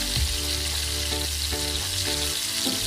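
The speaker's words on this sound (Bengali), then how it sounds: "টমেটো, এগুলো দিয়ে একটু হালকা করে ফ্রাই করে নিতে হবে।" Tomatoes with capsicum and onion frying lightly in a pan for a bamboo chicken dish, a steady close sizzle with several scraping stirs and low clatter throughout.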